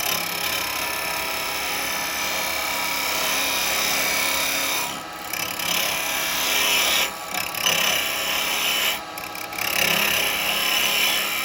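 Chisel slicing into Purple Heart wood spinning on a woodturning lathe for a small tea light holder, a steady loud rasping hiss with a constant motor hum, briefly easing off three times as the cut lifts.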